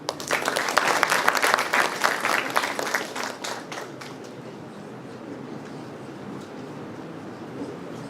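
Sustained audience applause at a medical college CME conference, loud and dense for about three seconds before fading to scattered clapping and room murmur.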